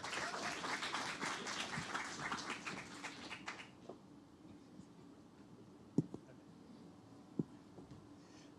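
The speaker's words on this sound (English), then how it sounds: "Please give a round of applause." An audience bursts into applause to welcome a guest speaker at a U.S. alumni event, a dense clapping burst that fades after a few seconds, leaving scattered taps and room noise.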